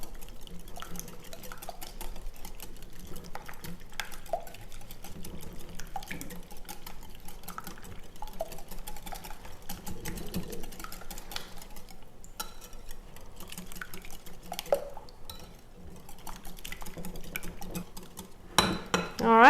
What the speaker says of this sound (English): And give it another mix.